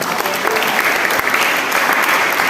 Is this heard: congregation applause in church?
yes